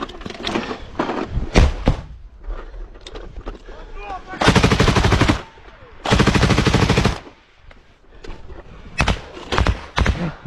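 Automatic rifle fire in a frontline combat position in Ukraine comes in two long, loud, close bursts, with scattered single shots and sharp cracks before and after.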